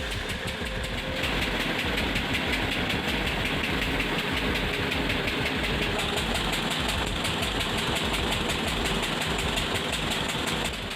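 A hot-bulb engine runs continuously, steady and low, with a slow, rhythmic firing thump, close and unchanging throughout, with no voices.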